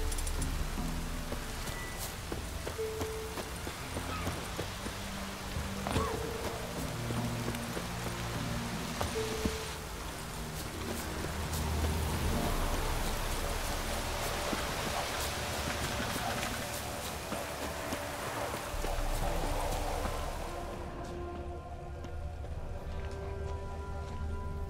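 Steady downpour of rain in The Witcher 3 video game, a continuous dense hiss of drops on surfaces that holds through the scene, with game speech over it.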